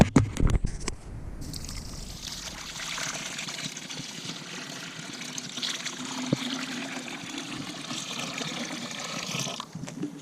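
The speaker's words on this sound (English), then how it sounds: "Now I got to get some water in there." A gallon of water poured into a big pot set up outdoors beside a burner, a continuous close splashing trickle that runs for several seconds after a brief knock at the start.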